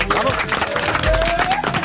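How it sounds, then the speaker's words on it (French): A class of middle-school pupils in a television studio audience applauds, a busy burst of clapping and crowd noise mixed with a presenter's voice calling out over it. "On peut les applaudir, bravo."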